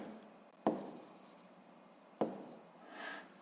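Handwriting with a pen or chalk during a physics lesson, two sharp taps as the tip strikes the surface followed by soft scratching strokes, close and quiet with no talk.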